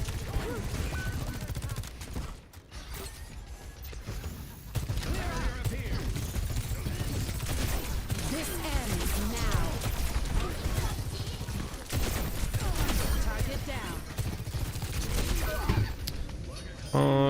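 Rapid bursts of gunfire in a competitive online shooter video game, clattering continuously with a brief lull, while a player talks over the action.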